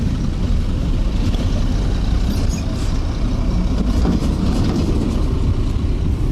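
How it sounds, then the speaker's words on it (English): A 6x2 tractor head truck pulling a four-axle semi-trailer over a worn, potholed road, giving a loud, steady low engine and tyre rumble that holds constant throughout. "For Kofi Same, driving a massive 6x2 tractor head with a 4-axle semi-trailer, it's more than just an inconvenience"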